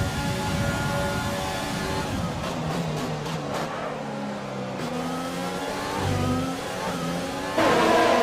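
Racing car engines from the F1 2020 video game roar down a long straight, a steady loud drone of high revving with pitch shifts and gear changes as cars close up for an overtake, with no talk.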